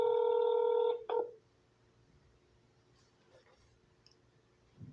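Telephone dialing tones ring out as a call is placed, a loud steady tone with a brief second burst, then near silence with faint clicks and soft voice traces.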